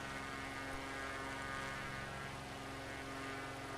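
A simulated airplane climbs in the Microsoft Flight Simulator 2024 game, a steady droning engine and propeller hum with a constant tonal whine, unbroken and even throughout.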